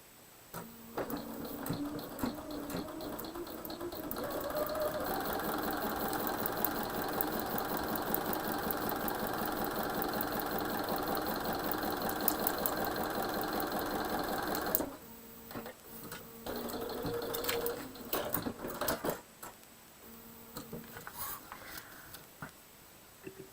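A sewing machine stitching a quilt block for a New York Beauty pattern runs in a steady, fast whirring burst for about ten seconds, pauses, then starts again in shorter runs, close and clear with no talking.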